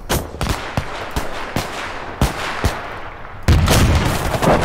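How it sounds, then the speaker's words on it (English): Mortar rounds firing in the World War II strategy game Gates of Hell, a Finnish conquest campaign with a 120mm mortar: a string of sharp, loud booming reports at irregular intervals, ending in a heavier sustained blast. "Right, now, mortars."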